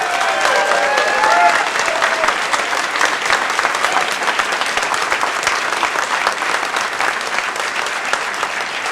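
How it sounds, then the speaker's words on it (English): A large audience at the HOPE XI hacker conference closing ceremony breaks into sustained, dense applause that fills the hall for about nine seconds, with a few faint whoops near the start. "So let's give them a huge round of applause."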